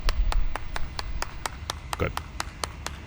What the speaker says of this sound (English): Everybody, give Pink Rebel Maker a round of applause.